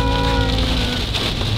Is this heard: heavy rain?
yes